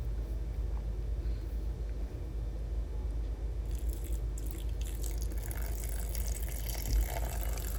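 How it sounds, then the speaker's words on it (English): Water flows steadily into a cooking pot for Nigerian yam porridge, a continuous close rushing and splashing that thickens and brightens in the second half. "Add your water."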